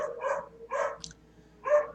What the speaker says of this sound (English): Sorry, my dogs are distracting me.